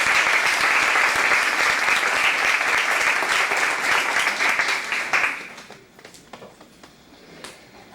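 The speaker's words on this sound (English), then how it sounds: "let's give them another round of applause." Audience applause at a regional summer institute, a dense, loud crowd clapping that holds steady for about five seconds before quickly thinning to a few scattered claps.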